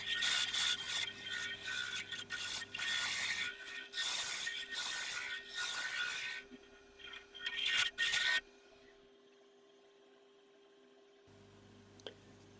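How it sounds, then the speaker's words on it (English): Steady rasping scrape of hand-held scrapers hollowing the inside of a spinning oak lidded box on a wood lathe, loud and continuous for several seconds, then briefly rougher before cutting off to a low lathe hum. "for the turning of the inside, I stand with scrapers. Several types of scrapers."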